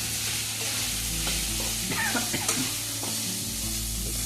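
Sabudana stirred and frying in a pan for a village breakfast in Maharashtra, with a steady loud sizzle and scraping stirring strokes close up, without talk.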